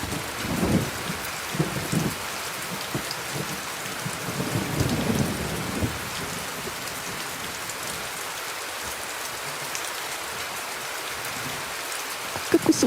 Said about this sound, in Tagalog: Kakusog sa ulan